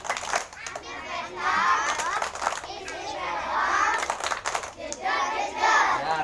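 Children perform the rhythmic 'tepuk polisi' clapping game, with chanted voices and bursts of clapping alternating in a patterned rhythm, close and lively.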